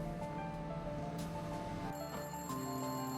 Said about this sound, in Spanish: El teléfono ya estaba sonando cuando llegó.